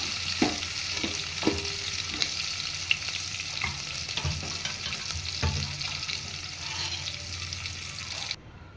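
Spices crackle and sizzle in hot oil as a tempering of curry leaves, garlic, cumin and mustard seeds, while a spoon clinks and scrapes the pan a few times, steady frying noise throughout, no talking.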